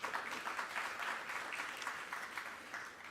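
Fairly quiet applause from an audience at a finance lab launch event, a continuous patter of many hands that fades slightly toward the end.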